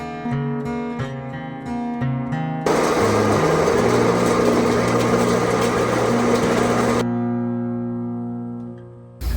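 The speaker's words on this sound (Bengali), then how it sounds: "সামনে যে মেশিন দেখতে পারা এই মেশিনের মাধ্যমে কফি তাকে তার বাধা আলাদা করা হয়" A coffee processing machine in a coffee garden at Kadamrasul Park separates coffee cherries, its droning motor hum breaking into a loud, dense rattling churn for several seconds before easing back to the hum.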